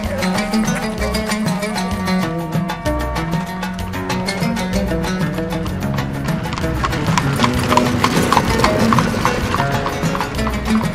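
Working horse hooves clip-clopping at a working animal welfare centre in Marrakech, a steady rhythm of hoof strikes running under dense background music throughout.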